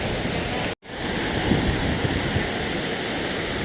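Sea waves roar steadily against the rocky shore at Harihareshwar as a loud, continuous wash of surf. There is no talk.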